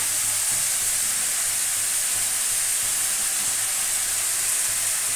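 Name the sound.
frying jackfruit in a pan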